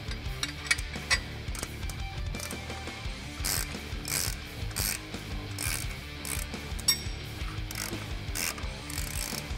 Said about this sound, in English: I'm gonna be using a 19mm socket and 19mm wrench to crack this bolt free